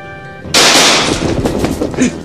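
Gunfire in a martial-arts drama fight scene: a sudden loud burst of sharp, rapid shots after a brief humming lead-in, continuing for well over a second and tailing off, with a final crack near the end.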